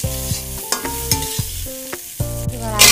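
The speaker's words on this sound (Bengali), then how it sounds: "পেঁয়াজ লাল লাল করে ভাজা হয়ে এসেছে ফ্রেন্ডস" Browned onions sizzle in a pan while a utensil scrapes and knocks against it in a few quick stirring strokes, close and moderately loud with no speech.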